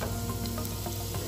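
Chopped garlic sizzles steadily in hot oil in a pan while making a homemade pizza sauce, a dense continuous frying hiss held close and fairly loud with no voices over it.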